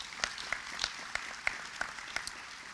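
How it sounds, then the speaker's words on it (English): Light applause at a teacher of the year banquet, a small scattering of claps with a few sharp, distinct hand strikes standing out in a loose rhythm. "if you'd give them a round of applause"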